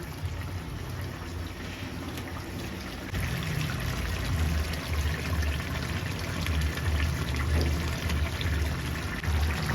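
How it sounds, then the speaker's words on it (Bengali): Water pours into a fish and tomato curry cooking in a pan in a village kitchen, a steady splashing flow rising after a few seconds over a low background hum. "টমেটো দিয়ে কষানো হয়ে গেছে, আমি জল দিয়ে দেব।"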